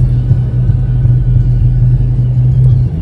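A car engine droning steadily while overtaking on a road, a loud close low rumble that stays even for a few seconds with no talk.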